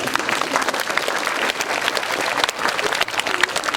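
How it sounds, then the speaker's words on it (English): An audience at a full school assembly for Matariki claps steadily and densely for the whole stretch, a close, even wash of many hands with only slight dips in intensity. "give them a clap, everyone. Come on."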